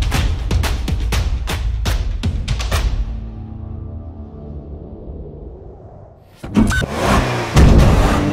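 A Kia Stinger is driven past with a loud engine and a few sharp rhythmic bursts, then a few seconds of fading quiet before the engine roars back up close.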